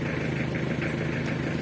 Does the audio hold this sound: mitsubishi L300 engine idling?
yes